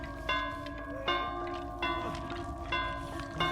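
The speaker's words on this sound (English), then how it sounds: "we are bing-bonging our bell in front of Ace to ward off any potential survivors wanting to unhook" A bell in a multiplayer horror video game rings in five evenly spaced, ringing metallic strikes about every three-quarters of a second, each leaving a sustained shimmering tone, heard moderately faint.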